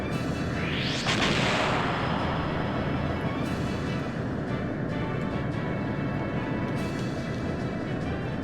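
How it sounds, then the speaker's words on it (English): An airship torpedo launched during a battleship fight in Skies of Arcadia, a rising whoosh early on over a dense, steady rumble of battle noise. "Actually, no, I gotta use my torpedo first."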